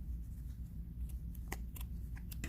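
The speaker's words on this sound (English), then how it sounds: "And then we can take our scissors and trim those ends" Scissors snip off the yarn ends on a children's turtle craft, a few quiet, sharp cuts near the end over a soft low rumble.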